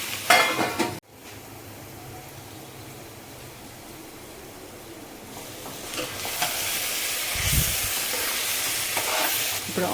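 Goat leg pieces coated in masala are stirred in a pot, with a clatter at the start, then a low sizzle that swells into louder scraping and frying toward the end, with no voices.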